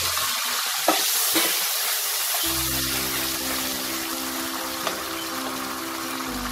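Ground cumin, dried chilli and ginger paste hit hot oil in a pan for a fish curry and sizzle loudly. The broad hiss is steady and continuous, with a few faint clinks and stirring sounds near the start.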